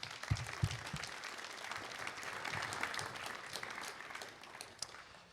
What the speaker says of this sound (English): a big round of applause to Jack, Mo and Flo for their presentations